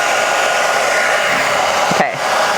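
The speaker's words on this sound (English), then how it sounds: "maybe my hairdryer's not the best" A hair dryer blows with a steady loud whooshing hum close by, briefly cutting out near the end before resuming.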